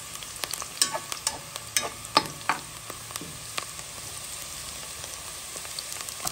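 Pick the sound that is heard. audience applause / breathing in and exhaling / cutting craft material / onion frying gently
onion frying gently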